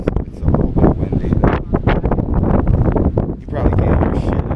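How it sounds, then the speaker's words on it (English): Wind buffets the microphone on an open Can-Am off-road ride, loud gusty roaring in bursts, with a voice talking under it. "It's a little bit windy."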